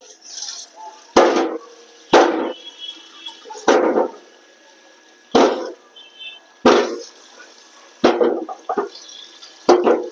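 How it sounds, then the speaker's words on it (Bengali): Fruits such as pomegranates, oranges and grapes washed in water, with repeated splashes and handling knocks in bursts about every second or so, close by, with no speech. "এবার ফলগুলো ধুয়ে রেডি করব।"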